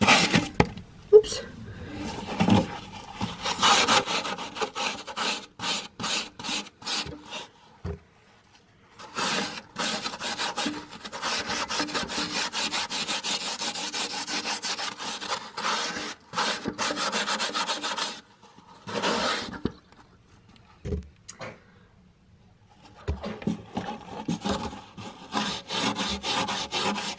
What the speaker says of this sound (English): I'm just going to go ahead and just do an easy scrub